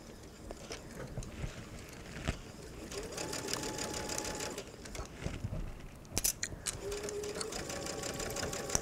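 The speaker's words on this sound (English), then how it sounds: "Again, do a couple stitches, and then do a couple back stitches." A sewing machine stitches a few forward stitches and then back-stitches while binding a buttonhole or welt pocket, its steady mechanical whir running close and continuous with brief pauses and slight shifts in pace.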